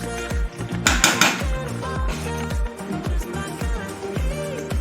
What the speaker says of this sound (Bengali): ভালো করে মিশিয়ে নিলেই একদম রেডি।